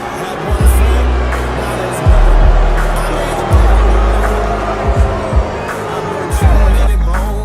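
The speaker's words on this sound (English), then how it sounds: "You can hear what the crowd here at the Tipton Center thinks of this crew" Crowd at the Tipton Center wrestling show reacts loudly as a tag team makes its entrance, a steady roar of voices and jeers with rhythmic low thumps recurring every second or so beneath a commentator talking over it.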